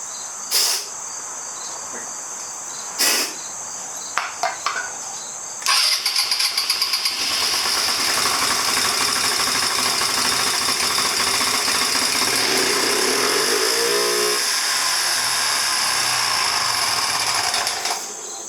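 A 2009 Genuine Buddy 125 scooter engine cranks and catches on starter fluid, with a few short bursts before it settles into a steady, close, loud running drone that holds to the end.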